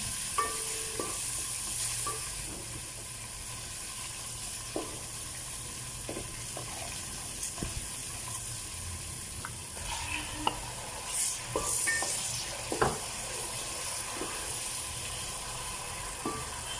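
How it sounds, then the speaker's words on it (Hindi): Tomatoes frying in a pan for green chana pulao, a low steady sizzle with occasional clinks and scrapes of a spoon, close and fairly quiet, no talking. "एक मिनट फ्राई करने के बाद हम इसमें अब टमाटर ऐड करेंगे"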